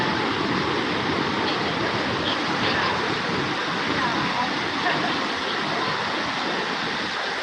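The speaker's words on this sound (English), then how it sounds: "These waves are super mushy here." Surf breaking at Sunset Point in Malibu, soft mushy waves rolling toward the inside, a steady broadband wash of white water that stays constant throughout without distinct crashes.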